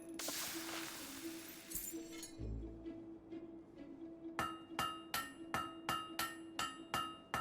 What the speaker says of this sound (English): Great hammer work there.